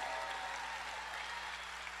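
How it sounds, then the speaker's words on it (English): Audience in a forum room applauding students, a fairly quiet, even patter of many hands clapping that holds steady for about two seconds over a low hum. "Can we give the students a big round of applause?"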